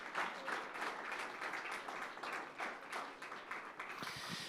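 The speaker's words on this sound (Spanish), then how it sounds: "Fuerte ese aplauso de alabanza al Señor." A church congregation bursts into applause in praise of the Lord during a service, a dense, steady patter of many hands clapping together for several seconds without pause.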